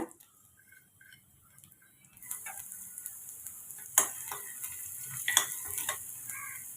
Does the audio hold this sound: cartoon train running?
no